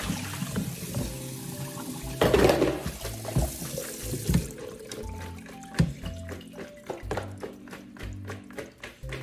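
Water splashes and sloshes as leafy vegetables are swished around in a filled basin, with a louder burst of splashing early on, then quieter irregular stirring.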